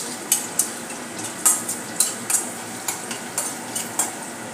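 Ingredients for Schezwan fried rice fry in a pan as a utensil stirs them, giving a soft sizzle under a regular series of sharp scraping clinks, about two per second, close and fairly quiet, with no talking.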